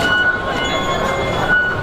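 A Hong Kong subway train at rush hour gives a loud, steady rumble of wheels on rail with thin high squeals and hums running through it, heard from close by.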